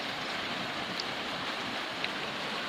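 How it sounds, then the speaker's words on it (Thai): Rain falling, a faint, even hiss of distant rainfall with a couple of tiny drip ticks, soft and steady throughout. "ฟังเสียงฝน"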